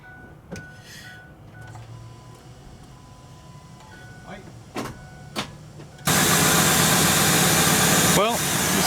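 A used and abused 2003 Ford Super Duty truck's engine cranks and catches with a sudden loud roar, then settles into a steady, close idle after several seconds of quiet clicks and small handling noises.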